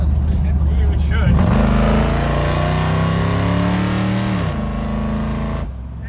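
A 1964 Ford F-100 pickup accelerates hard, its engine note climbing loudly through the gears with a shift partway through, while people talk inside the cab over the roar.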